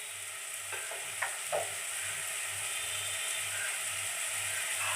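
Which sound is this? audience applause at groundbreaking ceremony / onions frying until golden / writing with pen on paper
onions frying until golden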